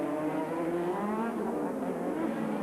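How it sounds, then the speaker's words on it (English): A Formula 1 car accelerates away from the pit at the 1987 Monaco Grand Prix, a loud, continuous high-revving engine wail holding steady across the whole short stretch. "That's Stefan Johansson leaving the pit."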